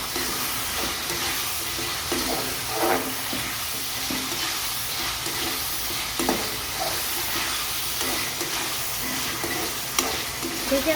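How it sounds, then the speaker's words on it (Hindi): Liver being stir-fried in a pan, with a steady, close sizzle running throughout and occasional scraping clicks from stirring. "अब इसकी जल्दी से मैं भुनाई करती हूँ।"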